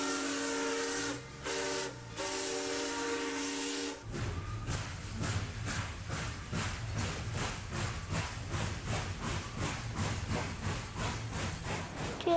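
A train whistle sounds for a game-show guessing round: a steady harmonic blast, briefly broken, then a rhythmic chugging of a steam engine with repeated puffs, loud and alone.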